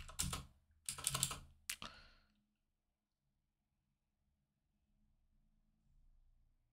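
Several quick bursts of keystrokes on a computer keyboard while setting up a first macOS machine, close and crisp, in short clusters over the first two seconds, then near silence with faint low background hum.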